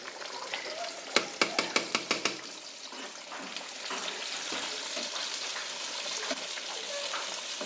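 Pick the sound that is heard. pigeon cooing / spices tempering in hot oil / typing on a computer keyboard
spices tempering in hot oil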